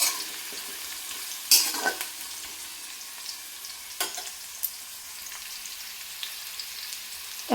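Sweet pumpkin pieces fry in a pan under a soft, steady sizzle, broken by a few sharp scrapes and clacks of a spatula stirring them, all close by with no talking.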